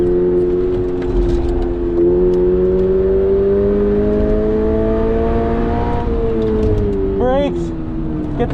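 2022 Subaru BRZ, stock, driven hard on a track, its engine revving up through the gears with rising and falling tones and gear shifts, loud and close, while a voice talks over it.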